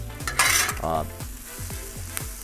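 Onions cook in a hot pan for a Philly cheesesteak, giving off a steady sizzle and fry hiss. Repeated scraping and stirring strokes run through it, with a bright burst of sizzle near the start.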